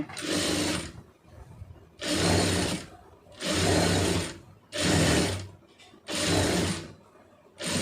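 Sewing machine stitching a puff sleeve in short repeated bursts, five runs of rapid stitching separated by brief pauses, close and moderately loud.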